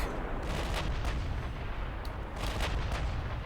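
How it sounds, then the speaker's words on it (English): Torpedo hits strike ships during a naval battle in a British legendary campaign video game, heavy booming explosions layered over a dense, continuous roar of gunfire and rumble, loud and sustained, with no voices. "Some torpedo hits coming in over there, which is crazy"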